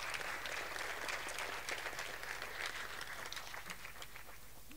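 Audience applause for a newly promoted director of engineering, a steady wash of clapping that holds at an even level for nearly five seconds before easing slightly at the end, with no voices heard.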